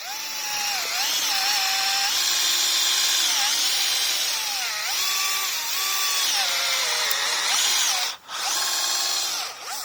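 Power drill driving old stock crosshead screws into wood, a loud continuous whine that rises and dips in pitch as the load changes, close up, with a brief pause near the end before it resumes.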